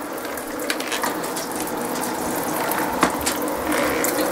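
Steady running water rinses hamster cage supplies, a continuous close splashing hiss with faint clinks and knocks of plastic pieces under the stream.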